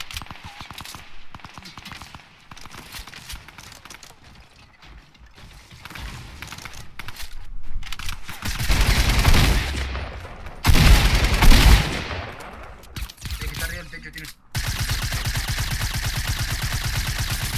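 Bursts of rapid Fortnite gunfire, quiet scattered shots at first, then loud dense automatic volleys in the second half with brief pauses.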